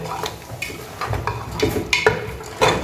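Chicken in bottle gourd gravy is stirred in a pot, with scraping and clinking strokes of a utensil against metal over a low sizzle. A few louder knocks sound near the end.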